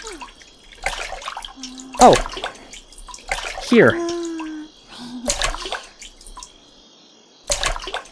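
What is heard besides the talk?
water splashing while bathing in the VR video game Viva Project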